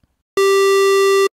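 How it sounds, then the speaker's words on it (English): A synthesizer oscillator in the Thor synth plays a square wave, a buzzy, harmonically rich steady tone held alone at a constant loud level for about a second before cutting off cleanly. "we will only be able to hear oscillator 2 and the square wave that's loaded there."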